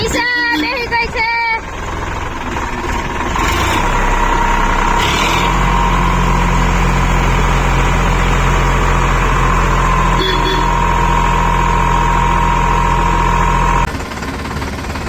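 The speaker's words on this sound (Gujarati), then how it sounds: "ફાઇનલી ટ્રેક્ટર ઉપડી ગયું છે" A tractor engine in a village runs with a loud, steady low diesel drone and a rattling idle after a brief rough start, voices talking over it near the beginning.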